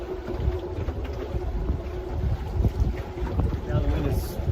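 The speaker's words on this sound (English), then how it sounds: "Now the wind is coming this way again." Wind gusts buffet a small boat on open water near Discovery Island, roaring steadily across the microphone with rumbling low noise and some water sounds beneath.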